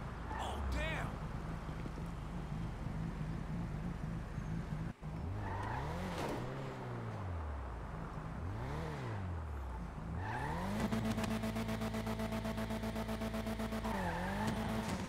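A car engine in GTA 5 revs hard with rising and falling whines, tires squealing and skidding through sustained loud driving, a gear-shifting drone dominating throughout.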